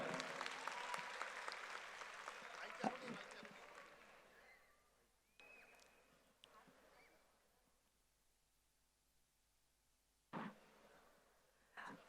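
Audience applause at a Chhattisgarhi launch event, a burst of clapping that fades over several seconds, then near quiet with a few scattered knocks and short noises, all fairly faint.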